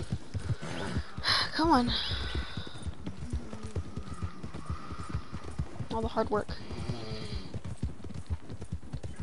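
Horse hooves clip-clopping steadily in a PS4 video game, with a couple of whinnies, as someone talks over the sound.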